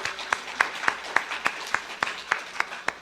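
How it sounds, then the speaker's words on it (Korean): A Korean church congregation claps in unison to give glory to God at a Sunday women's dedication service: a steady, rhythmic run of about ten sharp, evenly spaced claps, moderately loud, with no talk. "우리 다시 한번 하나님께 영광의 박수 돌릴까요?"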